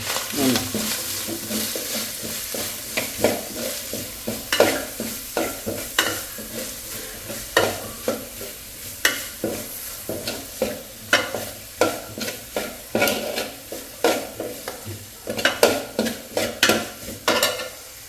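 Chopped onion frying in a pan for paneer bhurji, a spatula stirring and scraping against the metal in repeated close strokes over a soft steady sizzle.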